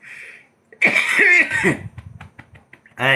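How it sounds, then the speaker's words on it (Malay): A person coughs and clears their throat in a few short, harsh bursts, close by in a quiet room, with brief pauses between them. "Tak boleh cakap banyak batuk."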